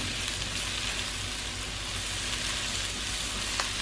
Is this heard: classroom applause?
no